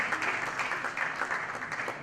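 An audience at a charity fundraising evening applauds to welcome a singer on stage, a dense burst of clapping that holds steady for a couple of seconds.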